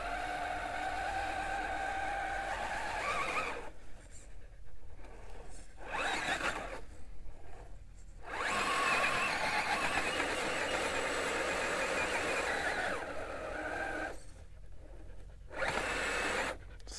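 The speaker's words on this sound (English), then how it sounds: "A lot of slick tire spinning action today." The tires of a Vanquish VS4-10 Toyota RC crawler spin on slick rock at Sand Hollow's TNT Trail, giving repeated bursts of whirring motor and tire scrub broken by short pauses.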